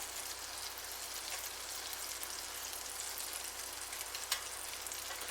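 Lamb's fry dusted in flour sizzles in butter in a frying pan over medium heat, a soft, steady hiss and crackle with a single sharper pop.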